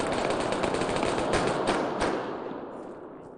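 Automatic gunfire in ArmA 3 during a snowy military operation, a dense rapid burst of shots that fades out toward the end, with little talk over it.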